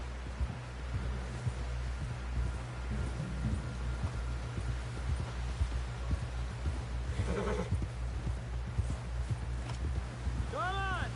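Horse hooves clip-clop steadily on a trail in Red Dead Redemption 2, a close rhythmic patter under continuous ambient noise, with brief whinnies and a faint voice nearby.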